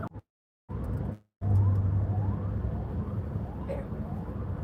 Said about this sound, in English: There are now 3 ambulances.